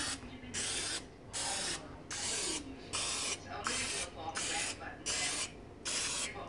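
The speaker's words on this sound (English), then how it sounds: "You can spray it into the tins." Pam cooking spray hisses into cupcake tins in a home kitchen, eight or nine short even bursts in a steady rhythm, close and fairly loud, with brief pauses between each spray.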